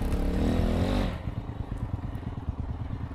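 A motorcycle labors up a hill: a loud, steady engine roar for about a second, then lower, choppy rumbling as it struggles on the slope.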